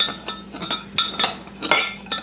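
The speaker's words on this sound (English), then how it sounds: "So I'm just going to give that little stir" A spoon clinks repeatedly against the side of a bowl while stirring dry yeast and granulated white sugar into water, a series of sharp, close metallic taps in an uneven rhythm with no talking.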